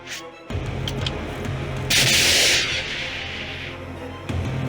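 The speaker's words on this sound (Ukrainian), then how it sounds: "Постріл!" A single loud blast from an anti-tank weapon firing, a sharp boom with a bright rushing burst, over steady outdoor noise.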